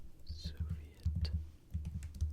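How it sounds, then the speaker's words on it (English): Computer keyboard typing, soft and close, with a quick run of light clicks and taps alongside faint whispering. "So you get a little bit of keyboard sounds."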